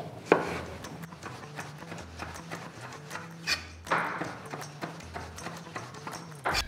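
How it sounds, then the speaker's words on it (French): A knife chops tomatoes on a board in a butcher shop during veal tartare preparation, giving an irregular series of crisp, close taps and thuds over a quiet background. "Moi, je vais couper les tomates."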